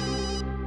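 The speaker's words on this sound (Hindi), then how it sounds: "घंटी तो लैब में बज रही है" A steady electronic phone ringtone rings in a lab, sustained and fairly quiet, with stacked harmonic layers and no voices.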